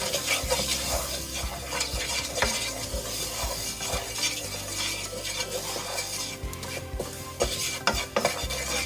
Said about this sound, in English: Just gonna mix this up in here.